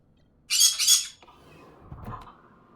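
Pet birds kept indoors let out a pair of loud, close squawks, followed by quieter chirps and a faint low thump.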